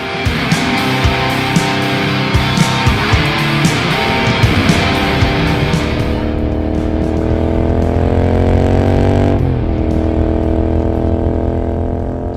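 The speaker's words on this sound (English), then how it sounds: "pop the bike in 6th gear and let the engine rumble away as you stare at the changing landscape" A Continental GT 650 motorcycle cruising in sixth gear gives a steady, loud engine rumble with passing wind rush, easing into a smoother drone partway through and then dipping briefly before settling again.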